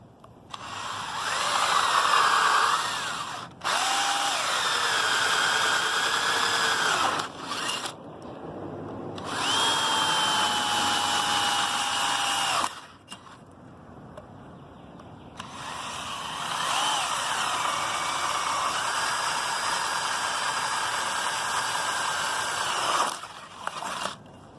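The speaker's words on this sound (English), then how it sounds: "Alright, drilling done." A power drill bores holes while a front side step is being installed, whining in several loud sustained bursts of a few seconds each, with brief pauses and pitch shifts as the bit cuts and slows.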